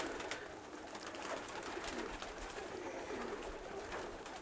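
Domestic pigeons in a loft coo softly and repeatedly against a steady background hum, the low calls quiet and close with no talk.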